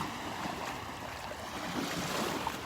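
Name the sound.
small waves lapping on the beach shore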